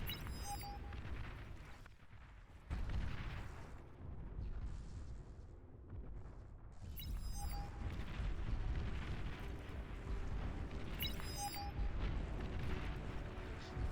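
Commander unit destroyed in the strategy game Beyond All Reason, heard as a sustained, rumbling in-game explosion with deep booms and repeated bursts over continuous battle noise, with no talk.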